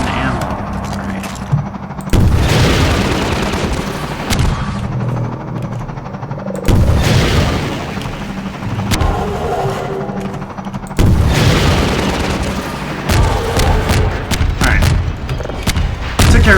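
Rocket blasts and heavy combat from the Half-Life 2 Highway 17 chapter as a gunship is brought down: repeated loud, dense booms and bursts of gunfire-like impacts in three big waves, continuous and close, with some talk mixed in.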